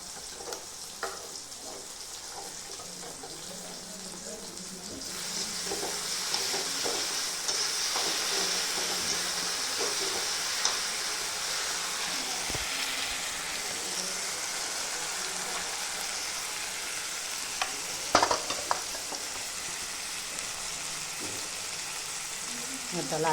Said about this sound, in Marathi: आता टाकते अद्रक लसूणची पेस्ट.